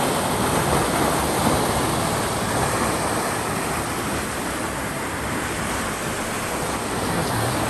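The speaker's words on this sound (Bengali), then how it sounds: "সেখান থেকে জলটা সাপ্লাই হয়ে ওইদিকে ময়ূরাক্ষী নদীতে যাচ্ছে" Heavy rushing water pours steadily through the open lock gate of Massanjore Dam into the Mayurakshi river, a loud, continuous broadband roar with no pauses and no voices.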